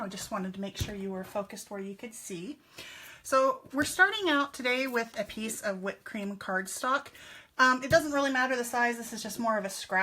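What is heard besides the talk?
No distinct noise like a dog, phone or traffic.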